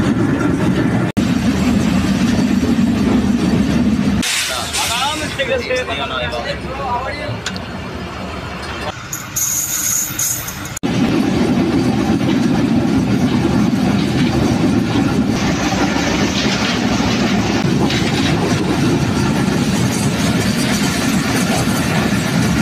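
The Varendra Express running on the line near Natore in Bangladesh, a steady rumbling roll with faint rhythmic clatter heard from on board, with voices and a brief louder burst in the middle.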